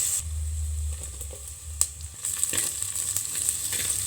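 Green chilies and onion fry in hot oil for an ivy gourd stir-fry, a steady close sizzle with a few clinks and stirring scrapes.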